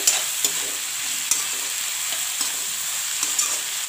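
Vegetables salted and stirred in a frying pan give a steady close sizzle, with sharp spatula scrapes and knocks at irregular intervals and no voices.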